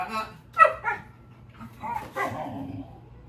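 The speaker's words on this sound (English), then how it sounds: "the barking tells us that she knows she's supposed to stay put." A dog named Simone, held on a place-stay during training, lets out a few sharp barks and yips at close range, spaced irregularly between quieter whimpers.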